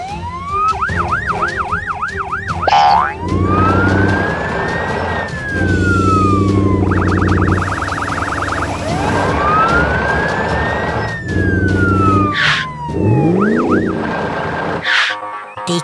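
Sirens from a blue police car and a white ambulance in a rescue scene, loud and close, switching between rising-and-falling wails and rapid yelping bursts over a steady backing tone.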